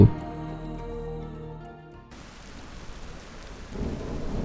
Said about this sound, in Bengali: মাঝে মাঝে টিপটিপ করে বৃষ্টিও পড়ছে।